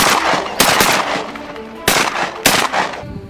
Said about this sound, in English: this is the Escort Youth Model 20 Gauge by Legacy Sports International